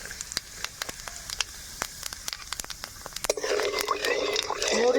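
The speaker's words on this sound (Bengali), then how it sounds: "মৌরিটা ভালো করে ভেজে নেব," Fennel seeds frying in hot oil in a village kitchen, with a bright crackling sizzle that starts suddenly partway through and grows louder, after a quieter stretch of scattered clicks and taps.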